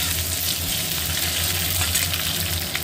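Egg and spices fry in a pan for a pepper-seasoned green banana curry, giving a steady, close, loud sizzle with a constant hissing crackle and no voices.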